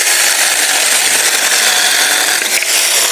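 Saker mini electric chainsaw cutting wood on a ranch trail, a loud, close, continuous high buzzing whine that holds steady throughout and wavers slightly near the end, with no voices.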